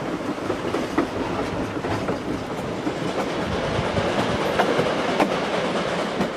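A tourist train rolls through the mountains of West Virginia, its steady rumble and rhythmic clickety-clack of wheels on rail carrying on loud and unbroken, with no voices.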